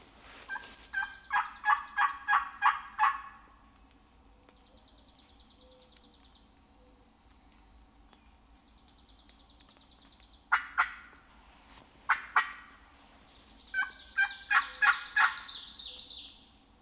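Wild turkey gobbling during a spring public-land hunt in Wisconsin, several loud rattling gobble bursts from a single bird at moderate distance, with quieter calls and pauses between them.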